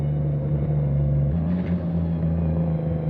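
Nissan Skyline engine in Assetto Corsa hums in a steady low drone, with a small rise in pitch partway through as the revs lift slightly, loud and close throughout.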